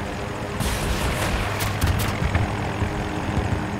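Loud, steady helicopter rotor and engine noise with sharp gunfire bursts cutting through, battle sounds from the video game Battlefield 2042, no talking.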